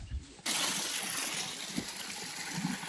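Water rushing at a waterfall on a property in Ecuador, a steady broad gushing roar that begins abruptly after a brief low muffled sound, close and continuous.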